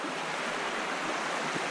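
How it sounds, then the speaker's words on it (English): Creek water flowing near a motorcycle camping club headquarters, a close, steady rushing hiss of running water heard alone for a brief moment. "Look at this creek."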